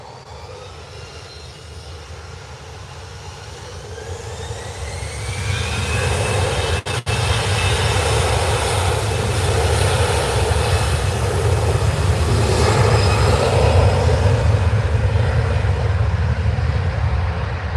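An EasyJet airliner's jet engines at Manchester Airport, a continuous loud roar and whine that builds and then holds steady at close range.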